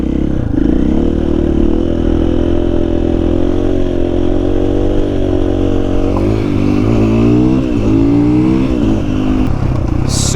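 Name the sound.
XR80 motorcycle engine revving with KTM power bundle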